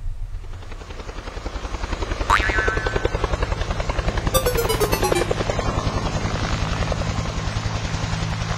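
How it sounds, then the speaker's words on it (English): Steady helicopter rotor thudding with a low engine drone throughout, loud and close, with a brief whining sweep partway through. "I just heard a helicopter."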